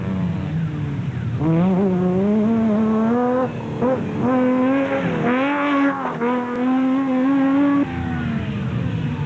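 A race pickup truck's engine revs hard at a rally start in the Limpopo 400, loud and near, with rising and falling pitch sweeps through repeated throttle blips before a sustained higher drone.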